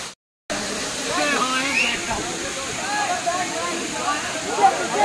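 Waterfall at Pachmarhi, water falling from a hillside as a steady broadband rush, with voices talking over it nearby after a brief silent gap at the start.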